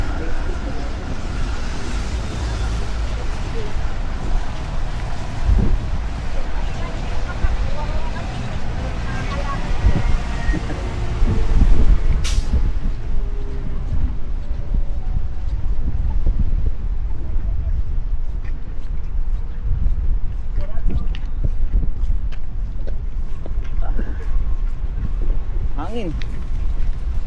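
Gusty wind buffets the microphone on University Avenue in Toronto's Chinatown, a steady low roar with brief surges while people talk over it.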